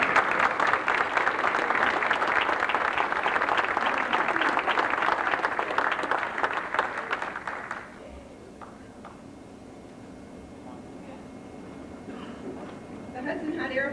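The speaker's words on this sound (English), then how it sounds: "Everybody stand up. We want to give you a round of applause." A crowd at the 1998 Hudson Hot Air Affair gives a round of applause, dense and sustained for about eight seconds before stopping abruptly, followed by quieter background sounds and a few faint claps.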